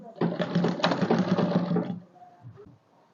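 A sewing machine stitches down the hem of a frock dress in a brief, close whirring burst of about two seconds, then stops and leaves quiet rustling.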